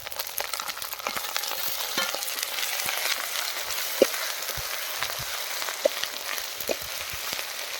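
Poppy seed paste and ginger paste fry in a pan with green chili and tomato, making a steady close sizzle broken by scattered clicks and scrapes from stirring, with nobody speaking.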